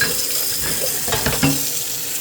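Hot water runs from a tap during dishwashing at a sink, a close, steady splashing with a few clinks of dishes mixed in.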